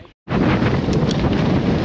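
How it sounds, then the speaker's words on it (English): Strong wind roars and buffets the microphone in a loud, continuous rush on Wheeler Peak after a brief quiet moment at the start. "I bet you can barely hear me because of the wind."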